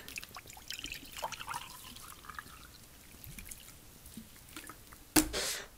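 Water spills from a bottle onto a desk: scattered drips and a light trickle, then a sudden louder splash and gush of pouring water near the end.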